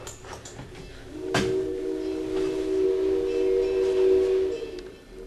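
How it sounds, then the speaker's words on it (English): A train rumbles past with a long, sustained horn blast that swells and holds for several seconds before fading out. "There goes that train again."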